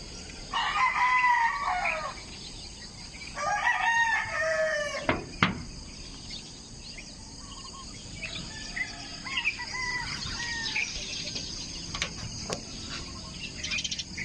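Several roosters crow in turn, loud and fairly close, with long wavering calls over a steady hum of insects and faint background clucking.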